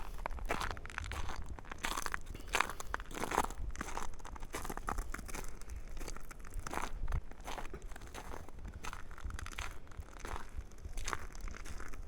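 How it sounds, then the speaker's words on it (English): Boots crunch steadily through fresh snow on a 19-degree day during a rare Southeast Alabama snowstorm, each step a close, crisp crackle in a continuous walking rhythm. "I know you guys can hear that crunching."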